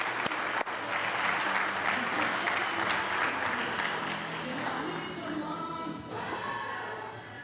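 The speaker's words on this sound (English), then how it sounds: "Please, a big warm round of applause for Mr. Tony Marinello." A studio audience applauds steadily for a medical center CEO being welcomed onto a business profile show, the clapping dense and sustained at full strength before easing slightly toward the end.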